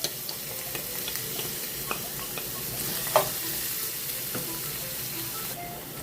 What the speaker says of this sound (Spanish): Cuando el aceite está caliente, sofrío los ajos por 2 a 3 minutos.